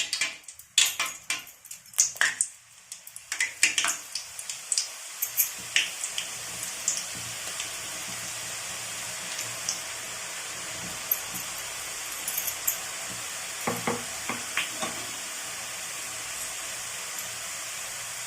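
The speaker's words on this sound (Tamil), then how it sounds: "இப்போ வந்து இந்த மாவை இதில் விட்டுடலாம்" Mixture snack batter dropped into hot oil, sizzling and bubbling steadily with a bright hiss, with a cluster of sharp clinks and splashes early on that settle into a continuous fry.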